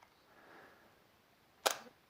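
A single sharp mechanical click of a camera shutter opening for a long exposure with the lens removed, a brief loud snap in otherwise quiet surroundings after a faint low rustle.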